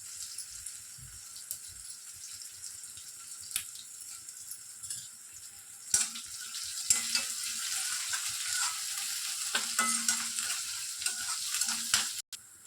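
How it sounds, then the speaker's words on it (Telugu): Onions frying lightly in a pan with dried red chillies for a potato fry, a soft steady sizzle that swells louder partway through, with occasional stirring scrapes and no talk. "ఆనియన్స్ లైట్గా ఫ్రై చేసుకోవాలండి"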